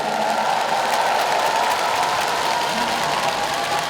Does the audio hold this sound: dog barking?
no